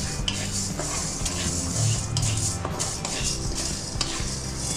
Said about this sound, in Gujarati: આ રીતે આ દાળ શેકાઈ ગઈ